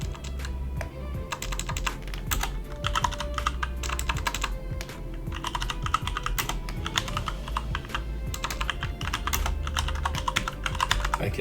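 Fingers tap away on a computer keyboard during software training, close, clicky bursts of rapid keystrokes separated by short pauses, with no voices.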